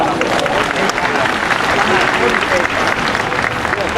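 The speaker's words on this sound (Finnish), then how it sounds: "Annetaanpa pienet aplodit tälle." An audience applauds a horse trainer at a Lusitano horse show, steady dense clapping filling the whole stretch at a fairly loud, even level.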